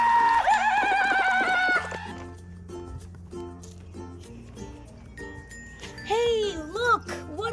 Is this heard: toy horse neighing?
yes